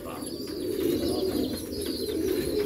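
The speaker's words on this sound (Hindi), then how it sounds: "ये पुराने नस्लों के कबूतर है" Old-breed domestic pigeons at a farm coo in a low, steady rolling drone that fills the whole span, close and continuous with faint higher chirps above.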